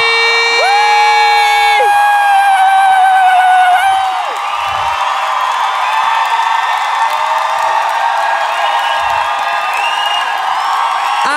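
A studio audience cheers, whoops and applauds loudly as two hosts are welcomed onto a stage, with high shouts and screams over sustained crowd noise throughout.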